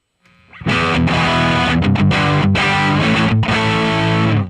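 Heavily distorted electric guitar through a Fractal modeler's three-knob drive model, with dense chugging chords and short palm-muted stops, loud and close, with no talking.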